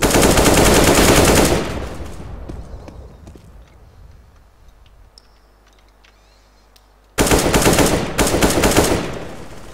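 Loud bursts of automatic gunfire in the shooter game Counter-Strike, with rapid sustained firing for the first second and a half, then a quieter stretch of distant shots and clicks before another loud burst near the end.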